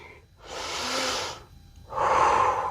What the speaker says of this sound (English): And you're breathing, cool, calm,